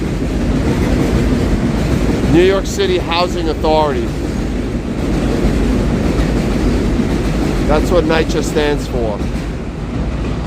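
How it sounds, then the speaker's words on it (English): A New York City number 1 subway train passing in the Bronx, a loud continuous rumble and rattle of the cars running throughout, with someone talking over it. "That's the number 1 train."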